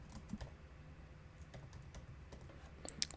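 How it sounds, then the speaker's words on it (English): Steady clicking of a computer keyboard as an address is typed, fairly close and even-paced with a few sharper key taps toward the end, no talking. "So we're going to type in our address"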